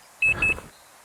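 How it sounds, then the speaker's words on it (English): Two quick high electronic drive/reverse warning beeps from a Can-Am Origin electric motorcycle, close and clear, over a brief low mechanical hum, then near silence. "my expensive electric motorbike needs to beep like a forklift every time I put it into drive or reverse"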